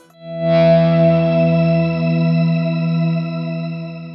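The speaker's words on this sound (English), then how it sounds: "you can hear the higher pitches that it's generating, the upper harmonics, or the upper notes it's accenting" Electric guitar chord run through a Strymon BigSky reverb pedal, its shimmer setting adding bright upper harmonics above a sustained low tone; one swelling, steady wash with no voices.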